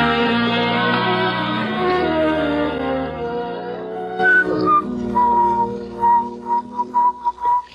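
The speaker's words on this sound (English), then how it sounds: "Can't you stop that whistling?" Whistled melody from a person in a radio drama, moderately loud and close, rising out of a soft harmonic backing and then carrying alone as a string of clear sustained notes with brief pauses between phrases.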